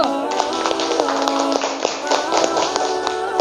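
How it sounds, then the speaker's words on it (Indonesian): A classroom group gives a round of applause, steady dense clapping from many hands sustained throughout, fairly close and lively, with faint voices underneath. "kita kasih aplaus dulu untuk kelompok 1"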